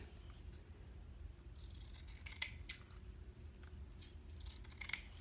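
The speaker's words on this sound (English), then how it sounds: "I think I'm going to cut that down a little bit smaller" Scissors cutting yellow paper for a travel notebook decoration, a few quick close snips and crisp rustles over a quiet steady background.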